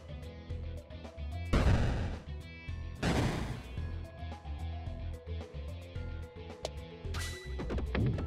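Bomb blasts in the game Peglin, two heavy booming bursts followed by a later crash, among scattered pops and clicks of in-game action, fairly loud with no speech.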